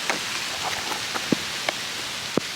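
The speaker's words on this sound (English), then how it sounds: "Apologise about the rain, it's screwing up the pictures" Steady rain hisses over a public footpath near Askrigg in the Yorkshire Dales, with a few louder drops tapping nearby at irregular moments.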